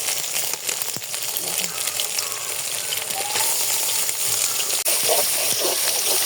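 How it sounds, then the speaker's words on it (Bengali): Meat and egg frying in oil on Eid day in Bangladesh produce a loud, continuous hissing sizzle with occasional crackles and sharp knocks, close by. "এই যে তেল দিয়ে দিচ্ছি আর মাংস ডিমটা ভেজে নিচ্ছি"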